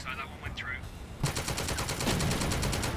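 Rapid bursts of gunfire from the turn-based strategy video game The Troop, a dense, steady rattle that starts partway through and runs loud to the end, with brief voice-like sounds before it.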